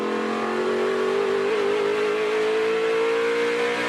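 SRX race cars at Nashville Fairgrounds Speedway, a sustained loud engine drone holding a steady pitch at full throttle with a small dip and recovery midway, continuous and fairly close.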